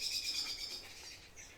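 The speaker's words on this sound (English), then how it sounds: "Geez, that's a loud bird." A loud bird calls with bright, high chirps that repeat for a moment and stand alone against a quiet background; no one speaks.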